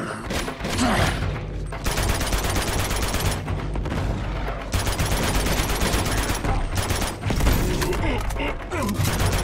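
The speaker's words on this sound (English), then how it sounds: "Just keep shooting!" Sustained automatic gunfire from the video game Uncharted 2 fills the whole stretch, dense rapid bursts with brief gaps near two and five seconds, loud and continuous, with occasional voices mixed underneath.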